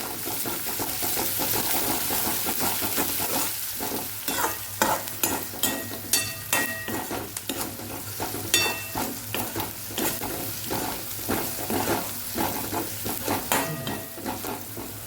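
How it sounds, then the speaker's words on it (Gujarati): Green chillies and garlic sauté in hot oil for a Kathiyawadi masala rotlo, a steady close sizzle broken by rhythmic scraping stir strokes throughout, with no talking. "મરચાં અને લસણ સરસ સતળાઈ જાય"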